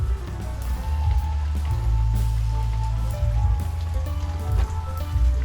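Steady rain falls in a continuous close hiss and patter over a low electrical hum near a hybrid solar inverter setup, with no speech.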